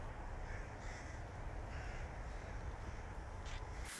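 Rooks caw from a flock, harsh calls rising now and then over a steady, faint outdoor wash of background noise.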